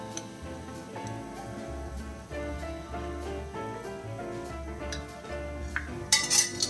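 Metal utensils clink and tap against a pan as fried egg bhaji is lifted out of hot oil, with repeated light knocks and scraping over a low background hum, getting busier near the end.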